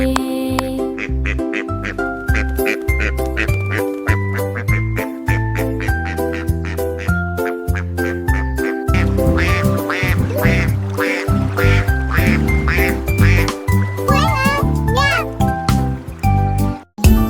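Ducks quack in a French children's nursery song, the cartoonish quacks bursting repeatedly over bouncy music and sung vocals, loudest in a dense run toward the end.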